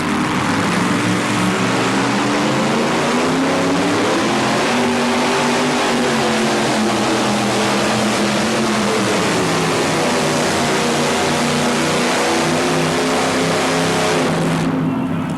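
A two-wheel-drive Chevrolet truck roars loud and close through a truck pull run at an event in Charlotte. Its engine note holds steady and then wavers, rising and falling at mid-run as if from a slipping clutch, before it cuts off.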